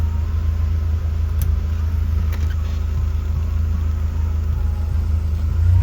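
A BMW E46 with an M43 engine gives a loud, steady low rumble that swells slightly toward the end, heard up close with no voices.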